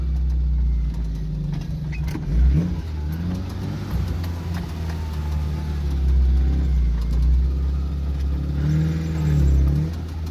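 A Suzuki Samurai engine runs close by with a steady low rumble, rising in a couple of brief revs before settling back to idle, with no voices.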